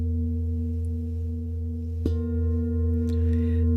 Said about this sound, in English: Allowing the deep sounds of the old bowl here to do a final integration